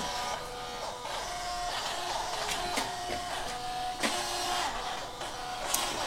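A robot vacuum hums and whirs steadily as it seeks its base, growing louder nearer the base, with faint clicks and a brief rising tone, moderately close, no voices.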